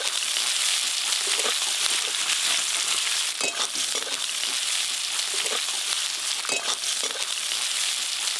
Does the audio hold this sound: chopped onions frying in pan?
yes